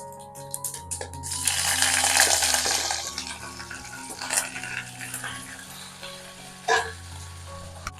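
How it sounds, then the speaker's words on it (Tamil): Cut okra sautéing in hot oil in a pan with curry leaves for a South Indian lunch, a steady close sizzle with occasional metallic clinks of a utensil against the pan and no talking. "எண்ணெயில் வெண்டைக்காய் ஒரு நிமிஷம் வதங்கட்டும்"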